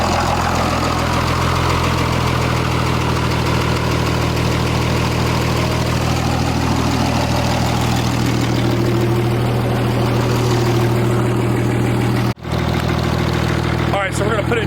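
A third-generation truck engine runs steadily at idle after a transmission service, a loud continuous low rumble with no gaps and a short dropout near the end.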